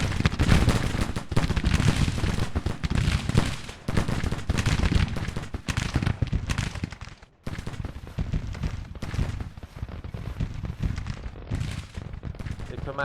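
Skirmishers firing muskets in a Civil War strategy video game, a dense rolling crackle of shots and volleys that barely lets up, with a voice talking over the battle.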